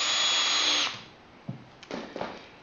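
A power drill whines loudly while driving a screw into a craft cart during assembly, then cuts off, followed by a few light knocks and clicks of handling.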